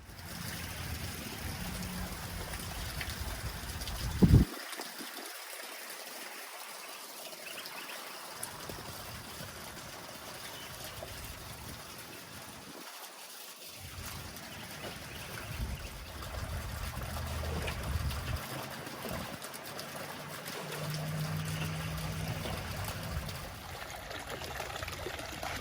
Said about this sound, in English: So I'm going to get some water in here and try to stretch that bottom out.